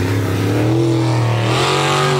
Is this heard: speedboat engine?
yes